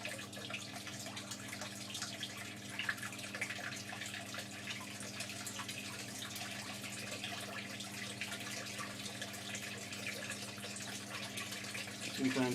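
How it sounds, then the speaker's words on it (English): Water draining steadily from a jacuzzi tub used as an aquaponics tank, pulled out through a siphon: a continuous close trickle and gurgle with a constant hum underneath. "So this one's starting to drain."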